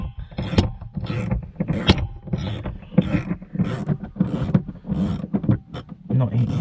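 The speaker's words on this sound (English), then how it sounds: "I'm put it on a ratchet so I can get in this tight space." A ratchet turns T25 screws in a tight space inside a Volvo P2-series car (S60, V70 or XC70), giving close, rapid clicking and mechanical ticks in short irregular bursts with brief pauses between.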